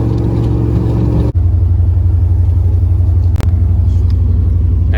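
A truck with a cammed LQ4 6.0 V8 pulls a trailer in third gear, its engine holding a steady, loud, lumpy drone. A brief dip marks a short break in the load, and the rumble stays constant throughout.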